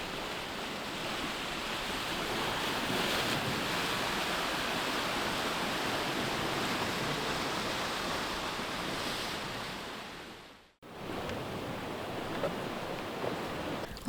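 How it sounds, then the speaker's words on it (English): Waves breaking steadily against the stone sea walls of Monemvasia, Greece, a continuous broad wash of surf heard up close with no pauses, briefly cut off near the end before resuming. "you can hear at all time the waves breaking on the walls of Monemvasia."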